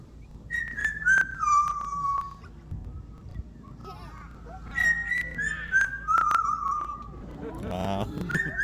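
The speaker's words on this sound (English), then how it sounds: "he is ready to whistle." A pet parrot whistles a made-up tune in two phrases of gliding, descending notes, fairly close and clear, with faint background noise and a short pause between the runs.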